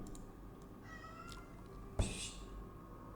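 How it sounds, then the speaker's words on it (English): A house cat gives one short meow, near but fairly faint, over a steady background hum with a few light clicks. "my cat is here."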